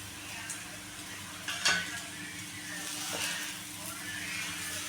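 Coriander vadi pieces frying in a pan, a steady crackling sizzle with a couple of light spoon clinks against the pan, close and continuous.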